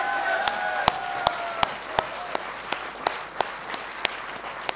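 Audience clapping at a Haryanvi kavi sammelan (poetry gathering), heard as steady, evenly spaced claps roughly three per second over a low crowd hush, moderately loud and without speech.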